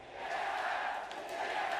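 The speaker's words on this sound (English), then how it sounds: "the TSM chants out of the Chinese crowd" Crowd at the League of Legends Worlds 2017 quarterfinal in China chanting TSM, a steady loud roar of many voices filling the whole moment without any individual speech standing out.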